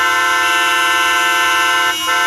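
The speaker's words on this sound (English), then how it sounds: "there are hundreds of cars already like locked in, and every single car is honking." Car horns blare in a traffic jam packed with hundreds of locked-in cars, one steady sustained honk holding throughout at close range with a brief break near the end.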